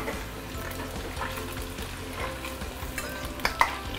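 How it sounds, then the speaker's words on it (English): Tofu deep frying in hot oil at medium heat sizzles steadily throughout, with a couple of brief sharper clicks near the end as the piece is flipped. "so I'm going to fry my second piece later using medium heat"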